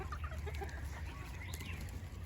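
Rooster on a farm clucking softly at close range, with brief rustling, while people talk casually nearby.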